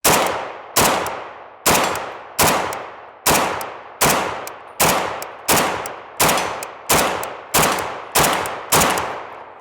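A Draco AK pistol fitted with a Chinese-style side-folding stock fires thirteen loud, sharp shots at a steady slow pace, each crack ringing out and decaying before the next, with no talking.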